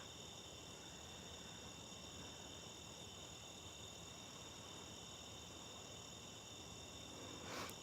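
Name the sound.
crickets and tree frogs chirping at night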